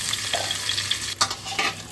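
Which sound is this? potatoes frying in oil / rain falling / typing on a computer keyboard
potatoes frying in oil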